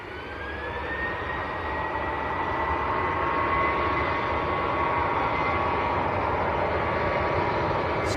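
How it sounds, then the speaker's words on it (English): A Jet2 jet airliner taking off at Leeds Bradford Airport, its engines building into a loud, sustained roar with a rising whine, steady and fairly close for the whole stretch. "here we go, Jet 2 to Tenerife."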